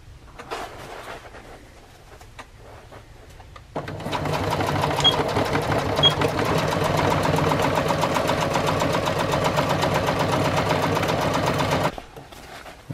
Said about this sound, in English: I'm going to just stitch right down along here and sew this bag closed